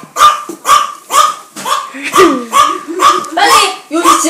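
A person imitates a dog's barking with about eight or nine loud, evenly spaced vocal barks close by, alongside a real dog nearby.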